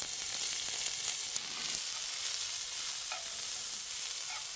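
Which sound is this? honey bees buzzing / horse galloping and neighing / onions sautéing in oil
onions sautéing in oil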